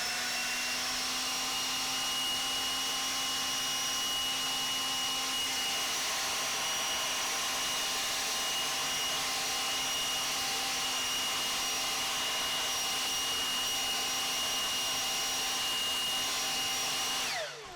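A DeWalt 60V FLEXVOLT cordless leaf blower runs at full speed, a loud steady whine with a high fan tone held evenly for about seventeen seconds before cutting off at the end.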